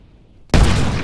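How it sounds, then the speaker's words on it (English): A steel gas cylinder bulges and ruptures in a fire, setting off a violent boiling liquid expanding vapor explosion: a quiet lead-in, then a sudden loud broadband blast that holds as a roaring rumble. "the gas flows out and ignites immediately, causing a violent explosion, a so-called boiling liquid expanding vapor explosion, or BLEVE."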